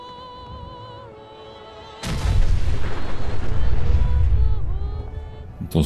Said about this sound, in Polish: To, że tak powiem, samochód się wysadził.